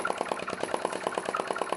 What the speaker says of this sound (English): that's Jerry Howell's vacuum engine.